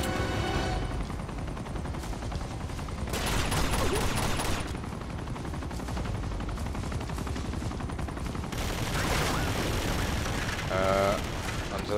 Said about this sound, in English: I'm shooting through the leaves.